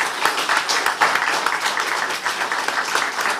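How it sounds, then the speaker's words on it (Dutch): Applause from an audience at an afternoon event with a writer in a Haarlem venue, a steady dense patter of many hands clapping throughout, fairly close and moderately loud. "Dames en heren, applaus."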